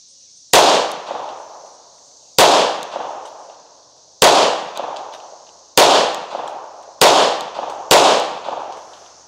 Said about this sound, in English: A couple more shots with the 45.